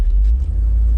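A 1989 Jeep Grand Wagoneer's engine idles with a deep, steady low rumble up close, running just after a 727 TorqueFlite transmission install.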